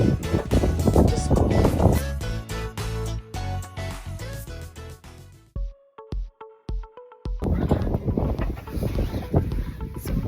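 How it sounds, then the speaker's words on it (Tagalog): Strong wind buffets the microphone in loud roaring gusts at the Drachenfels castle ruin in Rhineland-Palatinate, Germany, dropping away briefly in the middle before returning. "sobrang hangin sa labas."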